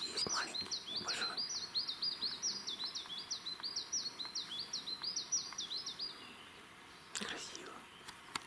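Birds singing on a sunny morning in the taiga, one bird repeating a rapid, high, bright chirping phrase for several seconds close by, with soft rustling and faint whispered talk around it.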